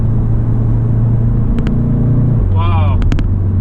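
Car with an EQT Stage 1 tune and DSG gearbox pulling under partial throttle, a loud steady engine drone heard from inside with a pitch shift partway through, like a gear change, and a person talking over it.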